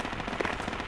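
Sustained automatic gunfire from a machine gun in the military shooter game Project Reality, a dense continuous rattle that sounds mid-distance, steady and loud for the whole short stretch with no talk over it.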